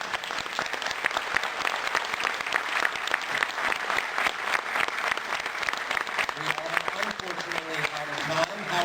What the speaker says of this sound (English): I just want to give you guys a round of applause.